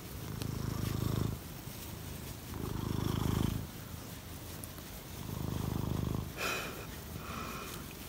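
A cat purrs close by in slow, rhythmic waves, each rumbling breath rising and falling, with a few faint higher sounds in the background.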